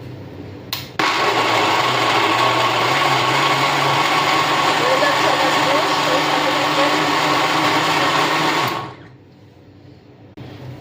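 A blender whizzing juice with ginger and mint leaves starts with a click and runs loud and close for about eight seconds, a steady high whir, then winds down and stops.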